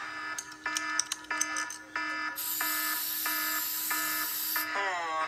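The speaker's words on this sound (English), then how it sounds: "Turn off the alarm." An electronic alarm beeps in a rapid, regular on-off pattern, then shifts to a continuous shrill high tone, loud and close with no talking over it.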